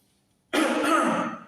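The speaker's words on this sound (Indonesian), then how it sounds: "Tarik nafas, busungkan dadanya, tahan 1-2 detik, lalu seperti itu batukkan." One forceful, close deliberate cough, a held breath pushed out with the chest muscles, bursts out of silence and rasps on for about a second before easing off.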